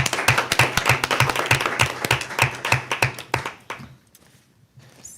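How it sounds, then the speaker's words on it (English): A round of applause at a town council meeting: quick, close, rhythmic clapping from a small group that tapers off to a few scattered claps and then quiet. "I think we owe them a huge round of applause for all that they've done."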